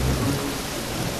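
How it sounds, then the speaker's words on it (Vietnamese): Sudden rain with thunder, a dense hiss of falling rain over a low rumble that fades slightly, loud and close, with no voices. "Ủa, trời đã nắng sao mưa đột ngột vậy?"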